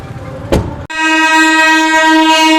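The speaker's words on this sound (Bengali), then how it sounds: "এই যে এই ট্রেনটা আসলো" A loud train horn blasts steadily after a brief rumble and clank of a train pulling into a station, the sustained tone holding strong to the end.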